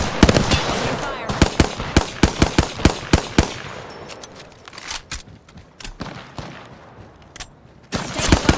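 Gunfire in the battle royale game Apex Legends, loud rapid bursts of sharp shots in quick strings, then a sparser lull and a fresh volley at the end, close and punchy.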